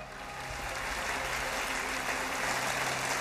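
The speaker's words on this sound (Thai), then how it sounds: "ปรบมือดังๆให้กับความสามารถของพวกเธออีกหนึ่งครั้ง" Audience at the Miss Universe Thailand 2022 pageant applauding, a broad steady wash of clapping heard from a distance, fairly faint, over a low hum from the hall.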